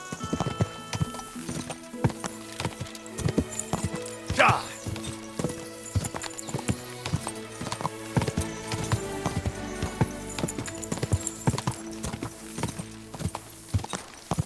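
A horse's hooves clip-clop steadily in the medieval video game Kingdom Come 2, with a brief whinny partway through and a voice talking over the hoofbeats.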